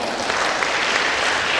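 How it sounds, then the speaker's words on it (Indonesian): An audience at a national public health seminar applauds, a loud, dense, steady burst of clapping filling the short moment. "Tepuk tangan dulu dong."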